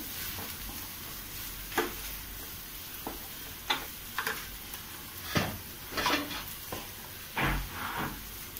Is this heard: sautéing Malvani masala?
yes